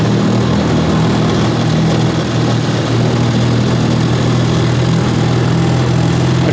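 A 1953 Elgin 5.5hp outboard motor running in reverse, a loud, steady, close buzzing drone that holds an even pitch throughout.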